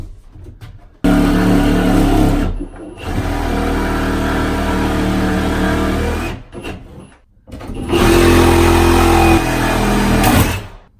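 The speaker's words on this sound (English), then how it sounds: "Now I'm going to take this Sawzall and I'll finish the remainder of this cut." A Sawzall reciprocating saw cuts through an attic ceiling to finish an opening for a Werner compact attic ladder, running loud in several bursts with brief pauses between them.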